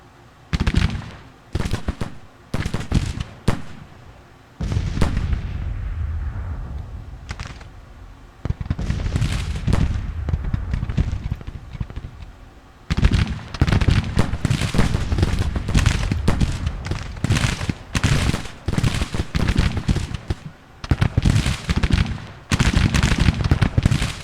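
A Civil War artillery battery firing in the Grand Tactician strategy game: repeated booming discharges and crackling volleys in irregular clusters, with a lull midway before heavy sustained firing resumes.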